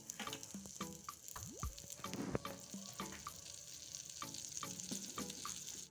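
A spoonful of butter heats and fries in a kadhai, a faint, quiet crackle and sizzle dotted with small pops and light clicks of the utensil.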